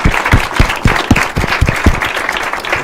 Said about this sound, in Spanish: les brindemos un fuerte aplauso a ustedes